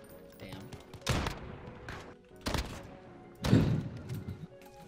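Gunfire in the video game Modern Warfare: three loud bursts of shots with a booming low end, spaced about a second apart over steady background game sound.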